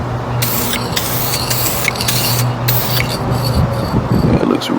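Spray gun laying down a last coat of paint on Corvette parts outdoors, a steady continuous hiss running alone throughout with brief breaks and a low hum beneath.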